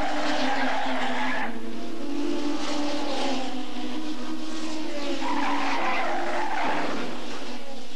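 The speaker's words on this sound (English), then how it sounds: "the wall gets in the way again, forcing a disastrous 360-degree, resulting in a wheel in search of the driver" Race car tires squeal in a long skid as the car hits a wall and spins 360 degrees, with two drawn-out screeching passes over a droning engine, loud and close.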